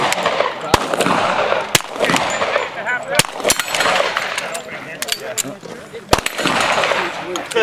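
Repeated sharp gunshots from a KRISS Vector Super V .45 ACP carbine at a range, several loud cracks spaced irregularly over steady background noise.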